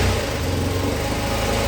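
A 2022 Bashan Brozz 250 Recon motorcycle engine running with the throttle held slightly open, a steady, loud, close mid-pitched drone with no voices over it.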